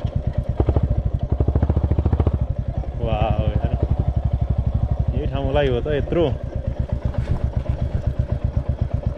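A Royal Enfield Classic 350 Bullet idles with a steady, loud thumping beat right up close throughout, while someone talks over it on an outing near Dhap Dam in Shivapuri National Park.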